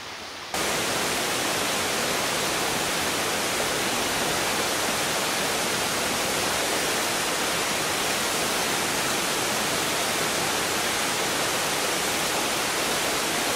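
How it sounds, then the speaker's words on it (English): Waterfall in a karst lowland forest on Seram in the Moluccas, heard from within its spray as a loud, steady broadband roar of falling water filling the whole clip with no voices. "So here I'm in the spray of a waterfall."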